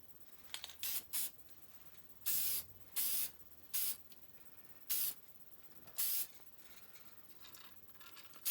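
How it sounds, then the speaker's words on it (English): A rattle can sprays cellulose lacquer in about eight short, sharp hissing bursts, each lasting under a second, separated by quiet pauses, close to the listener with no talking. "So I'm using lacquer, regular cellulose lacquer, rattle can, not expensive, easy to use."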